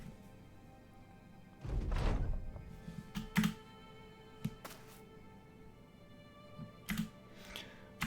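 Two gunshots fired in a medieval-style raiding video game, a loud booming blast followed by sharper clicks and thumps scattered across the following seconds.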